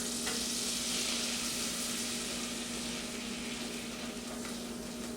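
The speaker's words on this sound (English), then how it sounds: "We're going to whisk in our flour." Flour being whisked into melted butter in a pan over medium heat, giving a steady, close sizzling hiss with soft scraping of the whisk throughout and no talk.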